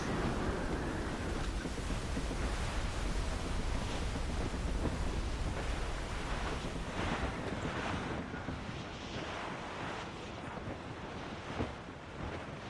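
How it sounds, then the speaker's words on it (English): Strong wind at sea in Assassin's Creed Rogue, a roaring gusty wind mixed with crashing waves and a sailing ship's rush of water, loud and continuous, easing slightly toward the end. "Wind's getting vicious."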